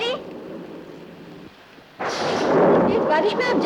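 Heavy rain pours during a thunderstorm, a dense steady hiss that swells suddenly into a loud rumbling burst partway through and stays loud to the end.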